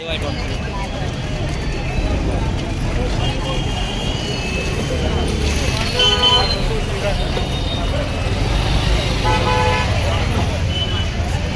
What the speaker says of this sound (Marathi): तर आपली गाडी आली आहे घ्यायला